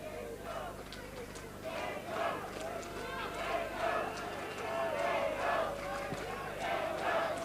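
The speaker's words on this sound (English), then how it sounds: "Well, the Central supporters in the crowd." Football supporters at the 1997 Chatham Cup Final, heard as a steady, fairly distant crowd roar with swelling cheers and chanting, with a commentator talking over it.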